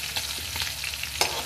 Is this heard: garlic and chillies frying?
yes